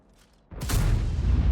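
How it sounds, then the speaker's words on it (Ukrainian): Tank gun firing in the World of Tanks video game: a quiet lead-in, then a sudden heavy boom that rolls into a sustained loud rumble to the end. "знову виходить Бураск, стріляє кудись в землю"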